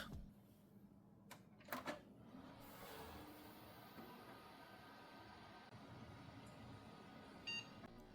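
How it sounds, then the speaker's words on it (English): A Gateway DX GTS desktop PC gives a brief, tinny POST beep near the end. Before it comes a steady low hum with a few clicks and knocks. "I've come to love that tinny little post beep"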